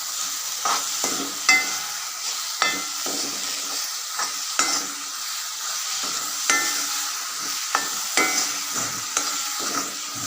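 Grated coconut being stirred into a sizzling coconut candy (coconut burfi) mixture in a hot pan, with steady frying hiss and repeated scraping spoon strokes, close and fairly loud, no talking.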